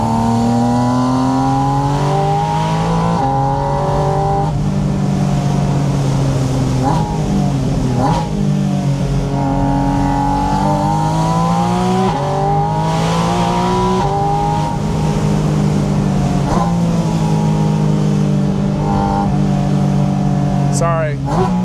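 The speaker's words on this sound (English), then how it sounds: "I'm warming the car up" Porsche sports car engine revving repeatedly as it warms up, rising and falling pitch in loud, close sweeps with occasional tire noise, and someone talking over much of it.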